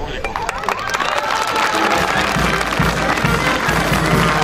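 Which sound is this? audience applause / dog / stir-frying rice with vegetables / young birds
audience applause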